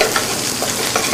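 Sliced shallots sweat in olive oil in a hot pan, giving a steady, dense sizzle close by with faint stirring scrapes, and no voices.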